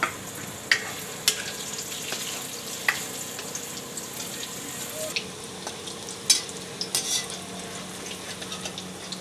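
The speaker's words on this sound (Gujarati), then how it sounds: "આપણે હવે પાતરાને થોડા થોડા ફ્રાય કરી લેવાના છે આને।" Patra, colocasia leaf rolls, frying in hot oil: a continuous close sizzle punctuated by scattered sharp pops and occasional clinks of a utensil against the pan.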